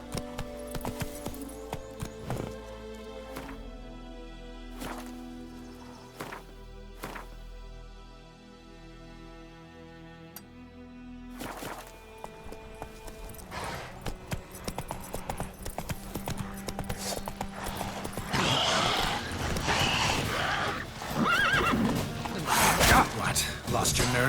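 Roach the horse galloping in The Witcher 3, rhythmic hoof clip-clop with mechanical clanks and creaks, shifting into a denser, louder rush of movement and noise toward the end, with game music and a voice at times.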